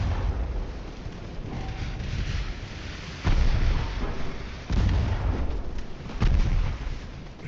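Warship main guns firing high-explosive shells in the naval game Ultimate Admiral Dreadnoughts, several deep booming salvos over a continuous rumbling battle din, with heavy thuds recurring every second or so.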